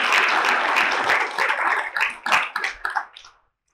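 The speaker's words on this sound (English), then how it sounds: "Let's give those guys a round of applause too." An audience at a law school ethics seminar claps for the student helpers, dense and fairly close at first, then thinning into scattered individual claps before dying away.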